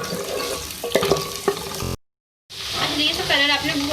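Sliced medium onions and thick green chillies frying in oil, a steady close sizzle with stirring scrapes, cut by a half-second silent gap before the frying resumes.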